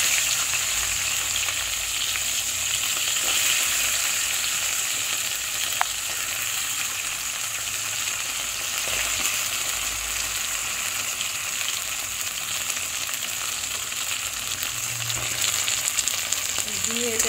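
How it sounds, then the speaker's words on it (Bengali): Chunks of taro and potato sizzle loudly in hot oil for a tangra fish curry. The frying hiss stays close and steady throughout, with occasional faint clinks and no talking. "এই গাঁঠি কচু আর আলু দিয়ে দিলাম তেলের উপরে"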